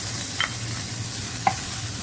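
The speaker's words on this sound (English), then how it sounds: "I'm going to fry the anchovies that I've sliced" Sliced anchovies fry in oil in a pan with a constant close sizzle, broken by two brief clicks of stirring, with no voices.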